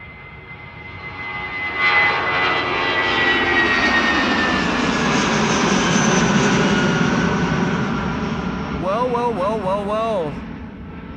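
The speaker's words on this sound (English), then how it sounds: "And that would be an A321neo to Stockholm." Airbus A321neo jet departing Amsterdam Schiphol for Stockholm, a loud sustained engine roar that swells and holds for several seconds before easing, with a voice talking briefly near the end.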